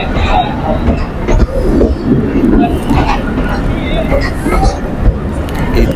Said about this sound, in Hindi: तो हमारी ट्रेन जो है वो आ चुकी है पाकिस्तान एक्सप्रेस